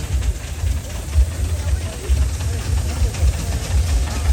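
A 6-inch scale Allchin engine by Bamford, built in 1974, chugs along at a steam and vintage rally with a steady low rumble and throb close by, under open-air background noise.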